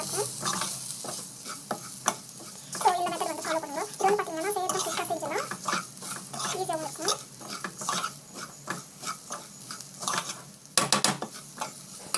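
Semolina (rava) stirred and roasted in a pan, a steady scraping with light sizzling throughout, while a voice talks over it in the middle.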